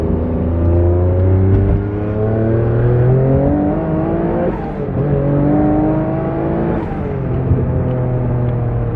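A 500 bhp Noble GT3R race car, heard from inside during a ride-along, revs hard through repeated gear changes, its engine pitch climbing and dropping with each shift, loud and continuous.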